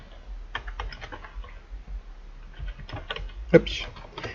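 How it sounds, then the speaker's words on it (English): Keys clatter on a computer keyboard in quick irregular bursts, close and fairly loud, with a sharper keystroke near the end and a voice speaking over it. "you have to type in a slash"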